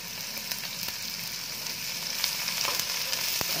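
Onion and garlic fry in hot oil in a kadhai for a Rajasthani raw-mango chutney, giving a steady, dense sizzle with faint crackles, close and continuous with no talking.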